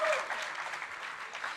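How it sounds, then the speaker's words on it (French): Steady applause from a conference audience at a French social-housing congress, a dense wash of many hands clapping at moderate distance, sustained without a break. "Vous pouvez les applaudir"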